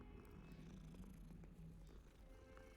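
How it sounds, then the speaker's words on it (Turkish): A cat purring in Hogwarts Legacy: a low, steady rumbling purr runs without pause, quiet and close, with no voices over it. "Ana kediye bak lan."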